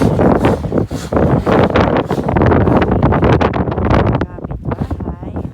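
Strong wind during a snowstorm outside a house roars and buffets the microphone in loud, continuous gusts, with brief dips and rustling, fairly close and harsh throughout.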